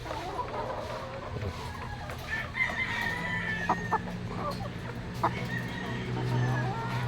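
Laying hens and a rooster in a farmyard coop, clucking and crowing at mid distance over steady background murmur.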